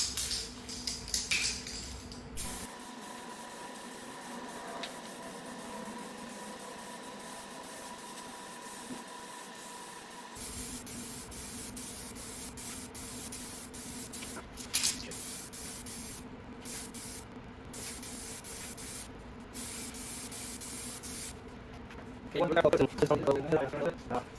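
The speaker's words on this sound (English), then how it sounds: "Once you puncture it, this has been activated and you can start spraying." An aerosol can sprays clearcoat onto the carbon fiber hood of an Audi TT 8J in long, steady hissing bursts with pauses between them, while a person talks throughout.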